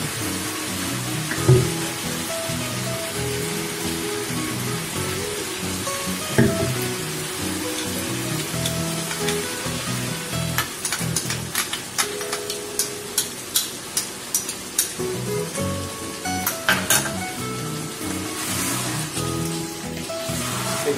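Cashew paste and a little water added to sizzling chicken rezala make a steady, rain-like frying hiss, with stirring scrapes and scattered spoon clicks on the pan toward the end. No talk is heard.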